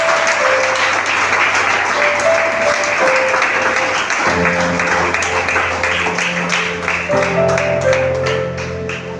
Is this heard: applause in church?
yes